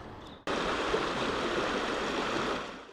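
Stream water flowing steadily past old mill sites in the Peak District countryside, a dense rushing wash that starts abruptly after a brief quieter moment and continues evenly, fading slightly at the end.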